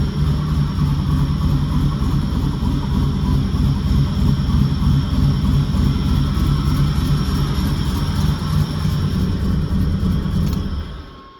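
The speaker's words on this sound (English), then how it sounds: "Car does sound like it probably has a cam that's been upgraded" A 1984 Buick Regal T-Type 3.8 SFI turbo engine with an upgraded cam runs steadily at a loud idle with a deep, lumpy rumble, holding constant before cutting off near the end.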